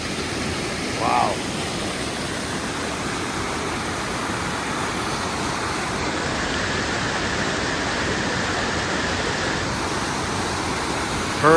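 Purgatory Falls roaring through a narrow cavern-like rock gorge, a loud, unbroken broadband rush close at hand, with a brief voice poking through early on and another at the very end.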